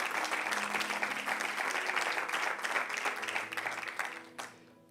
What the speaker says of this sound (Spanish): Por eso es motivo para darle un aplauso y darle gracias a Dios